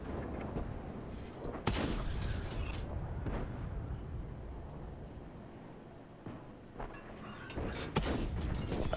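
Tank cannon fire and distant explosions in the World of Tanks battle game around a T-44-100 medium tank, a few sharp booms standing out over a dense, rumbling battlefield din that continues throughout.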